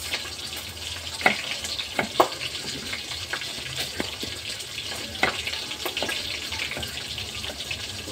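Meat sizzles in a pan with tomatoes, chilies and pepper as it is sautéed, a continuous close frying hiss broken by scattered clinks and scrapes of stirring, with no voices.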